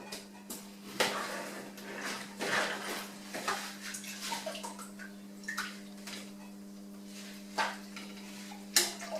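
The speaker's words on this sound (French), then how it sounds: "Et je les mets dans ma casserole." Small gherkins tumble into a metal saucepan with soft clinks and wet taps, close up over a constant electric hum, no voices.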